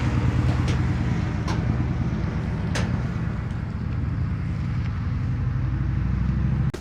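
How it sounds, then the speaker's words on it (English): A car drives by at night near a roadside stealth camp, a continuous rumbling road noise that stays fairly steady throughout, heard from a moderate distance with no talking. "Some cars drove by right when I was doing that."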